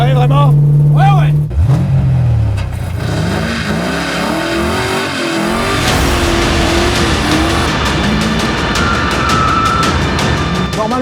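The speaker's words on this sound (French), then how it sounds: "On va faire fumer les pneus, mon gars." A 1970 Dodge Charger R/T engine revs hard and loud, rising and falling through several bursts while the tyres squeal and smoke, with people talking over the roar.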